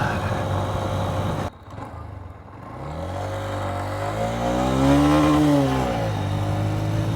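A 2023 Honda CB125F motorcycle fitted with a Yuminashi 28mm throttle body, its engine dipping briefly before climbing steadily to higher RPM, the pitch rising, wavering and falling again under constant close wind roar, with no talking.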